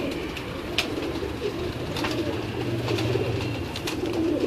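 Teddy pigeons coo in low, soft rolling calls within a steady hum of background noise, with a few sharp clicks scattered throughout.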